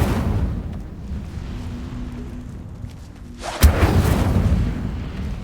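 A fire spell is cast in the Hogwarts Legacy video game, a sudden loud whooshing burst over a steady rumbling game background.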